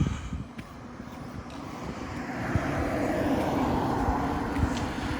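An Axe 550 accelerates hard in second gear while doing wheelies, a steady engine roar building in strength and laced with wind rush, heard outdoors from close by.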